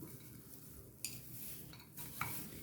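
Christmas cake fruit mix is stirred in a bowl, a continuous wet, sticky churning with a couple of sharper clinks of the spoon against the bowl, close and quiet.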